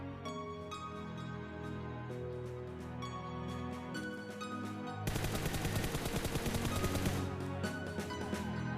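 Bursts of weapon fire in the video game PUBG crack over a steady background, then give way to a fast, louder stream of automatic shots.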